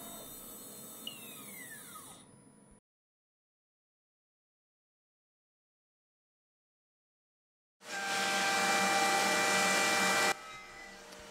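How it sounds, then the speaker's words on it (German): Benchtop drill press boring a hole in metal for a down-hold vise, a steady loud whine with broadband grinding that runs for about two and a half seconds, cuts out to silence, then returns loud and sustained. "Die Bohrung selbst habe ich dann auf der Tischbohrmaschine gebohrt."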